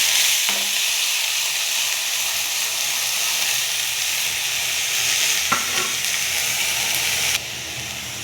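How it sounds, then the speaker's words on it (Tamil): Bitter gourd frying in a little oil in a pan, giving a steady, loud, close hiss of sizzling that runs nearly unchanged throughout, with a couple of faint knocks and no voices. "கொஞ்சம் எண்ணெய் விட்டுருக்கேன். இப்போ பாவக்காவை போடுவோம்."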